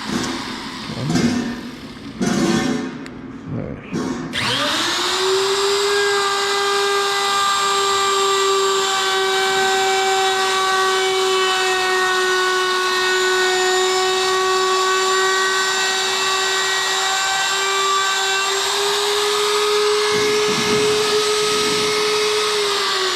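A wood router routs a coffee table tabletop, opening with a few rough cutting bursts, then settling into a loud, steady high-pitched whine that holds for many seconds before the motor begins winding down toward a stop.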